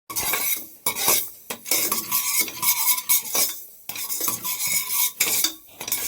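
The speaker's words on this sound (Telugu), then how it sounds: "మళ్ళీ అందులోనే ఆవాలు కూడా వేయించుకోవాలి." Mustard seeds dry-roasting in a pan for Indian gooseberry pickle, with a metal spoon stirring and scraping against the pan in repeated close, clattering strokes and no talk.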